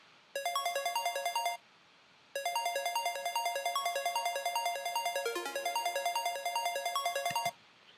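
A synthesizer plays a bright, buzzy square-wave patch with no pluck envelope in a future bass arrangement. It repeats a fast stepping melodic pattern in two sustained runs split by a short gap, loud and alone, without voices.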